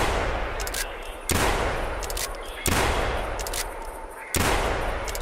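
Hunting rifles in the video game theHunter Classic fire four loud, sharp shots about a second and a half apart, each with a short fading tail.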